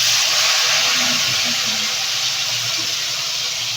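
Leftover oil from frying tilapia goes into a hot pan, giving a loud, steady, close hiss that barely fades across the few seconds.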